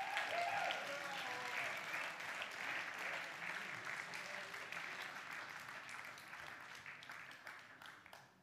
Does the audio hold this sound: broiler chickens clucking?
no